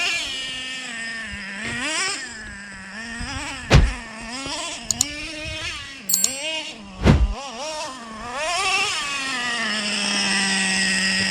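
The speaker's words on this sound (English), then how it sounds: "That nitro just sings off those." Nitro RC car engine on a post-rain bash, a high buzzing whine that rises and falls in repeated revs, echoing off nearby walls, with a few sharp knocks and clatters between revs and a long sustained rev at the end.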